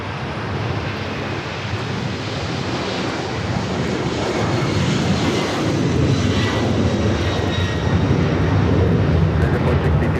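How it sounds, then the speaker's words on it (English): An Amerijet Boeing 767-300ER converted freighter takes off, its heavy jet engines a loud, broad, continuous roar that swells gradually across the span, with a voice faintly beneath. "That is Amerijet International Flight 462 taking off to Managua, Nicaragua on the 767-300 ER converted freighter"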